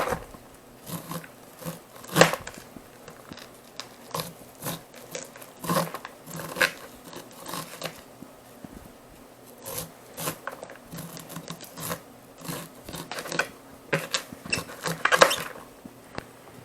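A knife cuts corn kernels off the cob close to the cob, making a run of irregular rasping, scraping strokes with small crackles, close and moderately quiet, with no talking.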